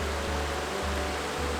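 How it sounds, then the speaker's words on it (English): A waterfall roughly 20 feet tall steps down angular ledges into a deep pool, giving a dense, steady rushing roar that stays constant and close throughout, with a low rumble underneath. "This massive waterfall was easily 20 feet tall, stepping down angular ledges into a deep pool."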